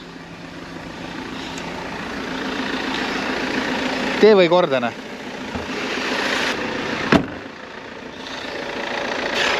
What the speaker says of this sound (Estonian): Mootor on lihtsalt uskumatu kui hea. Lihtsalt jumala vaikselt töötab kõik.